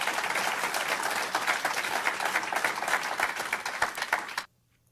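An audience gives a big round of applause for Minister Louis Farrakhan, loud dense clapping that holds steady for about four and a half seconds, then cuts off abruptly into near silence.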